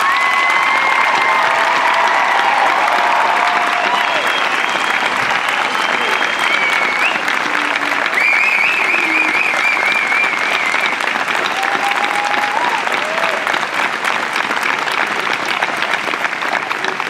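Loud sustained applause at a college commencement for faculty, staff and coaches, with continuous dense clapping, a few faint whistles and some crowd voices mixed in throughout.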